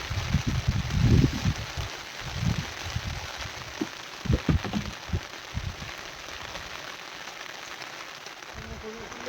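Rain patters steadily while louder low thumps and crackles come and go, heaviest early on, then settling into a constant wash of drops.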